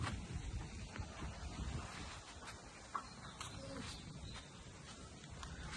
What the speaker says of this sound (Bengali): দেখো কি পরিমাণ ঠান্ডা বাতাস